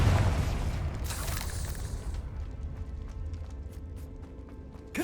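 A fiery Confringo spell blast from Hogwarts Legacy bursts loudly, then its rumble tails off into a fading hiss with scattered small clicks and debris-like ticks.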